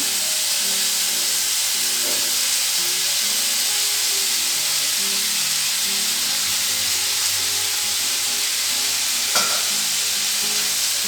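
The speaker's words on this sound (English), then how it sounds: "When it is being cooked, I am going to add the banana stem." Banana stem stir-frying in a hot pan gives a loud, steady broadband sizzle throughout, with soft scraping stirs and one sharp clink near the end.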